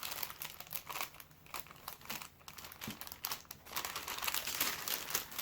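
Paper crinkles and crumples steadily while an awkwardly shaped, partly flat, partly box-shaped item is folded into wrapping paper and a flap is taped down, with no talk.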